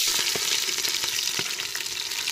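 Onion fries in a pot, giving a bright, continuous sizzle with repeated scraping strokes and soft knocks as a spoon stirs through it.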